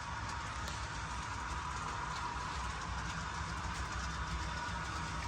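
HO scale model trains running on a home layout give a steady, continuous rolling rumble with light wheel clatter, even and unbroken throughout at a moderate level.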